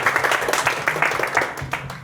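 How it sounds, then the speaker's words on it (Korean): Applause from an audience, a dense steady patter of many hands clapping together for about two seconds. "박수 한번 주세요"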